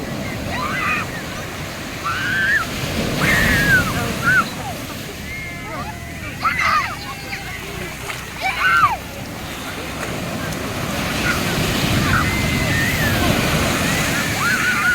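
Ocean surf at Tiwitiwi Beach, Legazpi, Albay, Philippines washes and crashes in a continuous roar while several people shout and exclaim excitedly over it.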